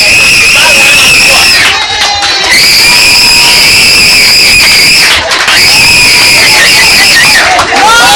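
A crowd at a church ministry gathering screams loudly and continuously in long sustained bursts, broken by brief pauses, with clothing rustle lost under the shrieking.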